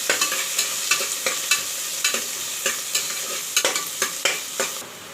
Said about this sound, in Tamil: சோம்பு பொரிஞ்சிடுச்சு, வெங்காயம் கருவேப்பிலையும் போட்டுக்கலாம். வெங்காயம் வதங்கணும்.